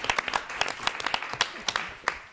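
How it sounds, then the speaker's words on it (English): Scattered applause from a modest audience after a regional economic development presentation, sharp individual claps in an uneven patter, fairly quiet and brief. "Let's give them a round of applause."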